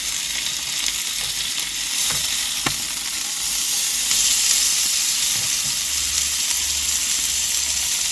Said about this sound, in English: You don't realise how noisy it is cooking steak until you've had to really stop to do it